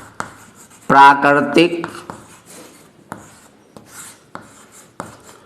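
Marker or chalk writing on a board during a maths lesson on fractions: a few short rubbing scrapes and taps spaced through the clip, with a brief spoken word near the start.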